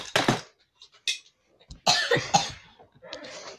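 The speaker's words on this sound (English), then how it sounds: "Sorry for my sister coughing." Several sharp coughs sound close by in short separate bursts, with quiet pauses between them.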